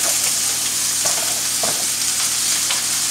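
Scallops sizzling in a hot pan, a loud continuous close frying hiss with a few faint clicks, no voices.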